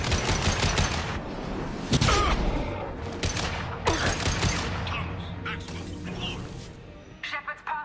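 Gunfire in the video game Mass Effect 2: a loud, dense fusillade of rapid shots with sharp cracks and booms carrying on throughout.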